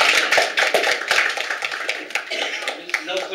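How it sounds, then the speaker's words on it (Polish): Audience applause for a performer named Dominik after a monologue, a dense steady patter of many hands clapping at close range for a few seconds, with a few voices mixed in. "Wielkie brawa dla Dominika."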